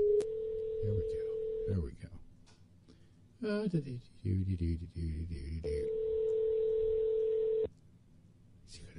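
Telephone tones over a line: a steady electronic tone, some dialing beeps, then a second long tone, with a person speaking briefly between them.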